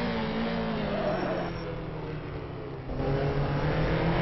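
A race car engine drones through a lap of the Surfers Paradise street circuit in a sim racing game, a steady mid-pitched tone that shifts as the car changes gear and climbs in pitch again near the end.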